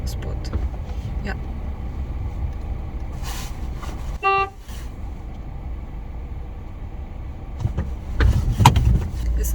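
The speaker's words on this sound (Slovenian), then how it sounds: "Kar nazaj lezo, smisla se v zalet v mene, tako da sem mogla potrobiti" A car horn gives one short honk at a huge car reversing toward the driver in a parking area, cutting through steady engine hum inside the vehicle, with someone talking around it.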